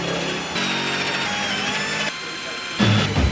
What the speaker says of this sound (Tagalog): Next step, lilihain lang natin.